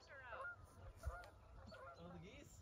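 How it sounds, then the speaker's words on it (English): Geese honk repeatedly at a distance on Mt Mansfield, Vermont, during the 2024 total solar eclipse, faint nasal calls rising and falling amid quiet outdoor ambience and low background voices. "the geese are confused"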